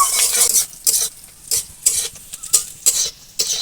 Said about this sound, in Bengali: পেঁয়াজ এরকম একটু ব্রাউন কালার করে ভেজে নিয়েছি